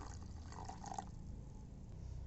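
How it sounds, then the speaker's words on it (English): Water poured into jaggery inside a strong bottle, a gurgling, bubbling pour that rises in pitch as it fills, then settles into a softer low trickle. "Put water in the jaggery"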